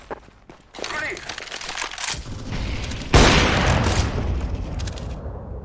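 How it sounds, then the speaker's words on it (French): A grenade explodes in a team shooter game: a loud, sudden boom with a long rumbling tail, preceded by crackling gunfire and shuffling game noise, with players' voices heard during the action. "Une grenade, une grenade."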